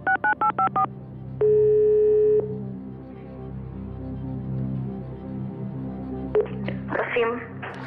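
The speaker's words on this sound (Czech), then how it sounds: "Zavoláme přítelkyni na telefonu Adélu" A phone number is keyed in on a telephone for a phone-a-friend call on the Czech game show Who Wants to Be a Millionaire: a quick run of DTMF beeps, a long dial tone, then more tones over studio background hum.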